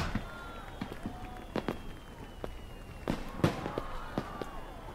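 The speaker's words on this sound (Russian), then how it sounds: "это просто салют." Fireworks go off in a salute: a string of sharp pops and crackling bangs at irregular intervals, some with whistling trails and faint echoes, heard at a moderate distance.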